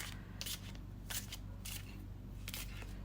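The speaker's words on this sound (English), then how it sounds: "we will be taking your tarot cards and we will be shuffling with intention" Tarot cards shuffled by hand in several crisp riffling bursts spaced over a few seconds, close and fairly loud over a low steady background hum, with no talking.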